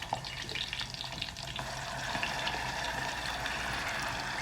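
Ingredients for a chana dal, coconut and amaranth curry fry in a pan, a moderate sizzle with stirring scrapes that grows steadier and fuller partway through, no talking.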